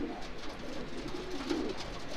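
Racing pigeons cooing inside a small loft, soft repeated throaty coos from several birds overlapping against a steady indoor background hum, close by and without speech.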